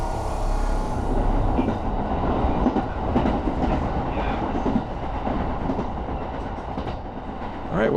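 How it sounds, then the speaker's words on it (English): A Kintetsu Suzuka Line train runs along the rails, a close, steady rumble with rhythmic clickety-clack of wheels over joints throughout. "Boy, this train really rushed to get here."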